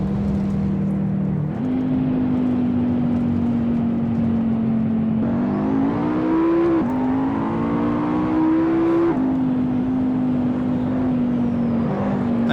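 A high-pitched race car engine in the racing game Assetto Corsa drones steadily, its pitch climbing and dropping as it revs through gear changes, loud and close with no talking.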